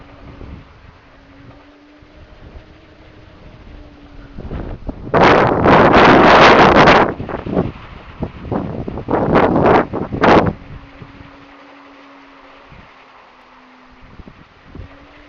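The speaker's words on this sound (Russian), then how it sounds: "Просто шум воздуха, порыв ветра небольшой." A small wind gust rushes around a homemade wind generator, with loud buffeting bursts in the middle over a faint low steady hum of the turbine.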